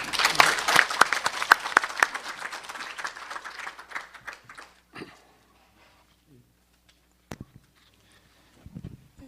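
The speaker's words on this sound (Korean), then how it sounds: "여러분 박수로 환영해 주십시오." An audience at a forum marking the anniversary of the 10.4 inter-Korean summit declaration applauds to welcome a speaker: dense, loud clapping that thins out and fades after a few seconds, followed by quiet with a few scattered knocks and rustles.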